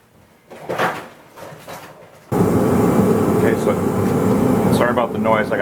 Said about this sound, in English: Sorry about the noise. I got a heater going in here.